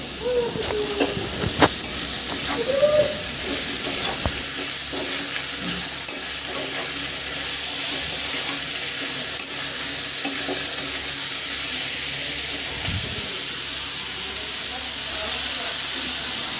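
Taro stolons and split green chillies sizzle and hiss steadily in a hot pan, with occasional scraping knocks of stirring and a brief voice early on.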